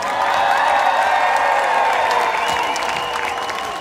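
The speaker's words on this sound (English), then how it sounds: "Give them a huge cheer." A large outdoor crowd at the Pride in London celebration cheers and claps steadily for the event's volunteers, a dense, sustained roar with whoops rising over broad applause throughout.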